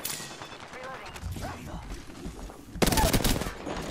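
Video game shootout with bursts of gunfire, scattered shots early on and a loud rapid volley near the end, with a player's voice talking over the action.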